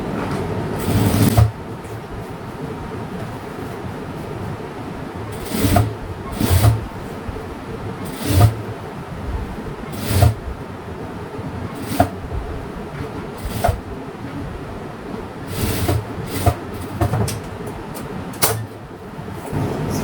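Sewing machine stitching a child's school uniform trouser with a half-elastic waist, running in short bursts of a few stitches separated by pauses and rustling fabric handling, close and fairly loud.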